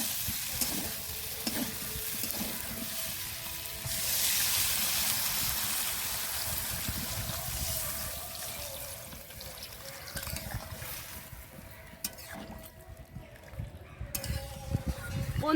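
Water goes into a pan of cooking kohlrabi, bringing a bubbling, hissing surge over steady sizzling, with stirring clinks and scrapes throughout.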